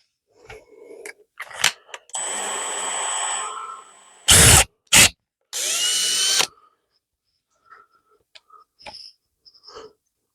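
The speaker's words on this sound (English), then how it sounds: "you want to drill about 2 inches in." A power drill with a small bit bores a pilot hole into a clamped piece of wood, running in a few sustained bursts with brief high-pitched whines and quiet clicks between them.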